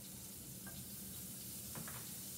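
Butter sizzles softly in a pan as a base for Everglades fish, a faint steady crackle with a couple of small pops and no voices.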